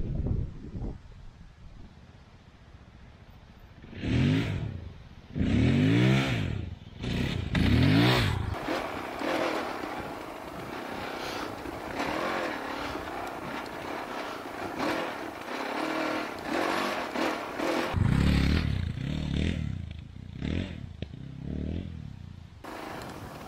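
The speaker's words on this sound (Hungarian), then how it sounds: "olyan élvezet ezzel a motorral menni" A Fantic Caballero 500 Rally motorcycle of about 40 horsepower being ridden, the single-cylinder engine revving up through gears, then a steady cruising drone under heavy wind buffeting, with more revving toward the end.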